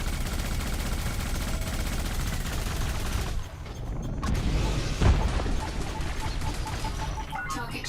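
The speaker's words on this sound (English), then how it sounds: "I think we will indeed go with the missile launcher." A missile launcher fires in a flight sim video game amid dense, continuous combat noise, with a sharp blast partway through and mechanical clanks and rattles, loud and busy throughout.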